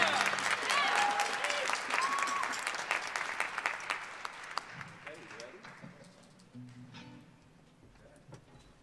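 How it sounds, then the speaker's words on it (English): Applause from a symphonic band concert audience greeting a guest conductor, loud dense clapping with a few whistles that gradually thins and fades over about nine seconds. "Please give him a round of applause and welcome him."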